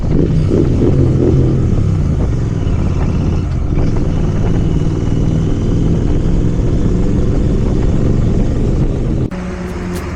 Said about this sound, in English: I have to mention the exhaust note again. Superb.